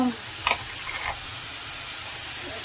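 Ivy gourd (dondakaya) and sliced onions frying in oil: a steady, soft hiss and sizzle with a couple of faint stirring scrapes near the start, no talk.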